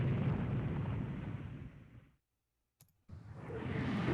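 Heavy battleship guns firing during a naval engagement in Rule the Waves 2, a loud rumbling roar that cuts out into brief silence, then a sharp click and another booming surge.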